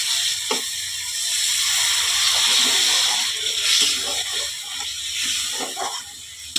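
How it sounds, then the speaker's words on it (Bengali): Water splashed into a pan of fried spices for an egg curry, producing a loud steaming hiss and bubbling that swells and fades, with light clatter from the pan and no voices. "এবারে আমি জল দিয়ে দেবো।"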